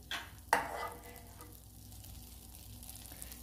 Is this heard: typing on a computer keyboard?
no